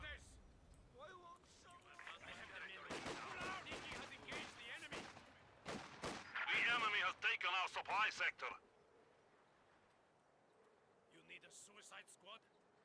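A landmine blast and bursts of gunfire in the World War II strategy game Company of Heroes 2 crackle and thump in dense clusters over several seconds, mixed with someone talking excitedly, then fade to quieter scattered shots.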